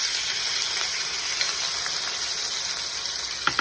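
Finely chopped onion and cumin frying in hot oil in a kadai, a steady, dense sizzle that holds close and even throughout, with a few small clinks near the end.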